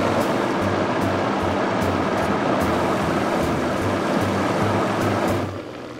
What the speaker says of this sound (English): we can just put the lid on and blend this